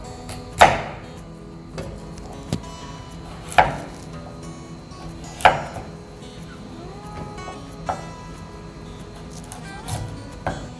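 Knife slicing carrot into flat pieces on a cutting board, sharp separate chops spaced a couple of seconds apart, close and distinct over a quiet room with no talking.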